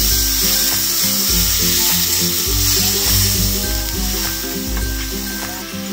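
Ground spice paste sizzling loudly in hot oil in a pan while cooking soto daging, a steady close frying hiss with occasional stirring scrapes.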